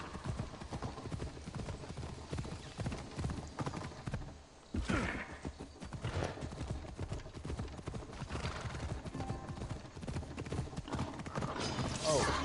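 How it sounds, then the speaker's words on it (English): Horse hooves clip-clop steadily in Assassin's Creed Odyssey, loud and continuous alongside game music and ambience, with a brief neigh, while a person talks over it. "Where's my horsey?"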